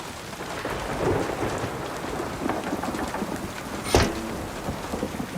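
A rainstorm beats steadily on surfaces while low thunder rumbles underneath, and one sharp crack of thunder or a closer hit comes near the end, with no voices.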